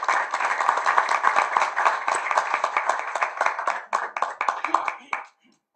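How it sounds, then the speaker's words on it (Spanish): An audience at a university lecture on republicanism and citizenship applauds a speaker with steady, dense hand-clapping that thins out and stops near the end. "Entonces, un aplauso para ella."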